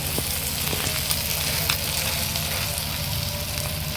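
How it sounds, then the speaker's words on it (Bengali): An egg mixed with vegetables frying in a pan, a steady close sizzle and crackle with a few light stirring clicks, no voices. "গাইস দেখেন এখানে কিন্তু আম্মু ডিমটা ভাজা অলমোস্ট ডান"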